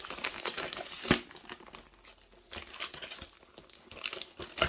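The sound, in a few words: plastic bag crinkling as parts are put back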